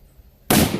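A rifle fired from a bipod under a normal load gives a single sharp, loud shot that cracks suddenly out of near silence, close by.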